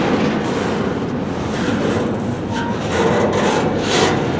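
A long CSX freight train with spine cars rolls past nearby, a steady, loud rumble of wheels and wagons with faint rhythmic clatter throughout.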